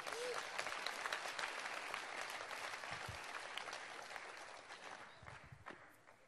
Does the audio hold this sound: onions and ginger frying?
no